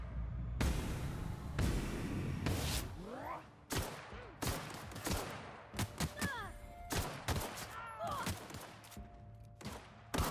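Pistol shots ring out in The Outer Worlds, a dozen or so sharp single cracks spaced irregularly, with descending whizzing sounds and other combat effects between them.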